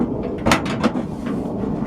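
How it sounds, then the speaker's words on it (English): The door of a restored car being opened, a few close mechanical clunks and creaks in quick succession over a low rumbling background. "let me open up this door"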